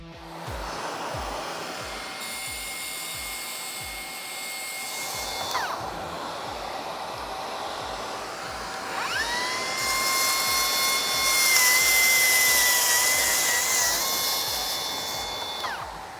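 A Milwaukee plunge saw whines at steady pitch, spinning up and then biting into material for a shallow scoring pass followed by a fuller cut, its motor tone shifting under load and winding down between passes, loud and close with no talk.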